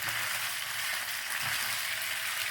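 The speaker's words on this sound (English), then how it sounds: "Okay, I'm doing my first little stir here" Bourbon chicken fries in oil in a non-stick skillet as it gets its first stir, a continuous bright sizzle, close and even throughout.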